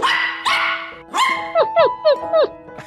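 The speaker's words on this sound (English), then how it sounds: "This is my dog." A dog barks close and loud, a few longer barks followed by a quick run of four sharp, higher yips in steady rhythm, with no voices over it.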